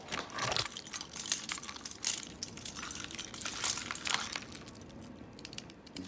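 Keys on a KeySmart Max key holder jangle and clink in repeated bright bursts, handled up close without any talking.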